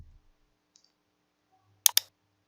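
A computer mouse clicks twice in quick succession while someone works in Power BI. The two sharp clicks are close and crisp in an otherwise near-silent room.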